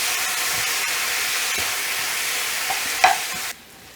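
Green onion and onion stir-fry over high heat in a pan, a loud steady sizzling hiss broken by a few scraping stirs, ending abruptly as the noise drops away.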